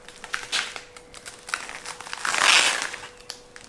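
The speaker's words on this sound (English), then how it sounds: "let me just unwrap this for you" Plastic packaging around a RevoZport forged carbon spoiler for an Audi RS3 is unwrapped up close, with crinkling and crackling bursts that swell into a louder rustle midway, with no talking.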